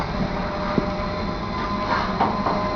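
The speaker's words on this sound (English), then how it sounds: "This is a K1 locomotive, a 260 loco." A K1 2-6-0 steam locomotive at Tyseley, a steady mechanical rumble with faint hissing and a few soft knocks, moderately close and continuous.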